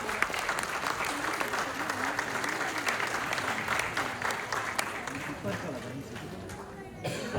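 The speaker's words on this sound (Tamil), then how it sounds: "அரங்கம் நிறைந்த கைத்தட்டலோட வரவேற்கிறது டோக்கியோ" An auditorium crowd at a Tamil association New Year event in Tokyo bursts into sustained applause to welcome a singer, dense clapping filling the hall and tapering slightly at the end while a voice talks over it.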